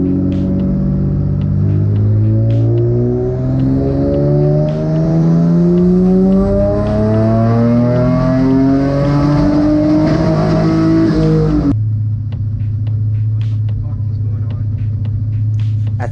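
A twin-engine MX3 car revs hard on a dyno, its engine breaking up and stuttering as the pitch climbs, loud and close, then cuts to a lower steady drone.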